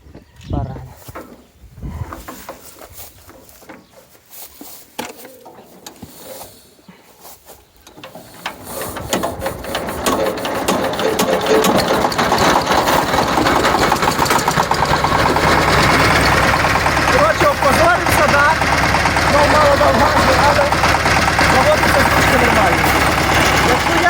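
Mini tractor started with a hand crank: at first scattered knocks and cranking sounds with voices, then the engine catches and settles into a loud, steady, rattling idle.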